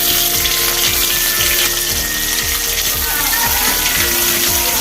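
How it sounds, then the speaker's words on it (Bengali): Chopped onion, ginger and garlic frying in oil in a wok over medium flame give a steady, loud, continuous sizzle with a bright crackling hiss throughout, with no talk over it. "ভালো করে হালকা করে ভেজে নিতে হবে, বেশি লাল লাল করলে হবে না"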